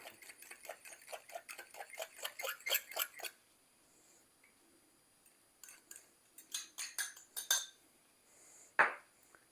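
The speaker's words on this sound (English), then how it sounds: "I'm just going to give this a slight little, beat it up just a little bit." An egg is beaten with a utensil against a bowl: quick, rhythmic clinking taps in a long run, a brief pause, another burst of tapping, then one louder knock at the end.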